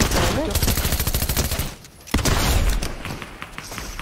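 Rapid bursts of gunfire in a Fortnite match, dense and close, with short pauses between volleys and a low thud near the middle, mixed with game sounds.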